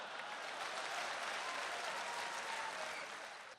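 Sustained audience applause fills a comedy poetry show in Dubai, a dense wash of clapping that stays loud and steady throughout before easing slightly at the very end.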